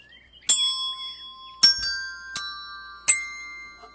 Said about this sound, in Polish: takie dzwonki.